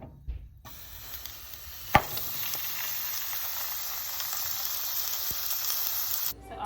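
Sausages fry in olive oil in a pan with a steady, close sizzle. A sharp clink sounds early on, and the sizzle then continues evenly for several seconds before cutting off abruptly.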